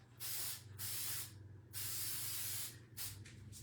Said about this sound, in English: I'm going to go ahead and spray this real quickly.